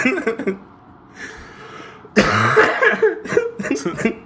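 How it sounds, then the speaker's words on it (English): Several harsh, close coughs break out in quick succession, loud and raspy, mixed with talking voices. "Stop coughing."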